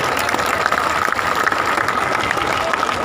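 A crowd at a live protest sit-in rally in Batala claps loudly and continuously, a dense, sustained wash of applause throughout.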